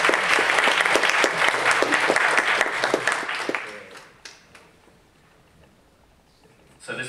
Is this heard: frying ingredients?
no